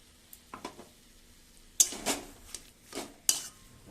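A metal spoon scrapes and clinks against a pot as ground roasted cumin and five-spice powder are stirred into taro greens cooked with chickpeas, giving several irregular knocks and scrapes at close range.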